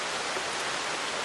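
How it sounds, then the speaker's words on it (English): Steady rain falling outside, a dense even hiss of drops without pauses, moderately loud and close, with no voices over it. "it is raining like it has been pretty much every day for the last couple of weeks"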